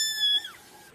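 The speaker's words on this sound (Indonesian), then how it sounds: "bunyi kucing." A cat gives a single short meow, a high tonal cry that bends downward and fades within a second.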